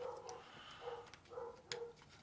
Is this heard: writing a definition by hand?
no